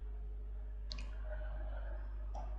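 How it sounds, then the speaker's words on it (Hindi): Mouse clicks while operating point-of-sale software: two short, crisp clicks spaced about a second and a half apart, faint over a steady low hum. "इसको हम क्लिक करते हैं"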